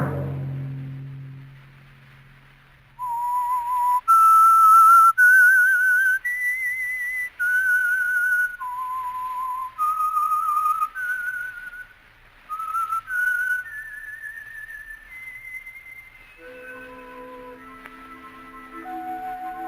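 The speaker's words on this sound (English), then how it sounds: "Let that whistle be your signal" A clear whistled tune of rising and falling notes, the signature of the old radio drama The Whistler, played alone and loud after a brief low rumble, ending with a swell of orchestral music.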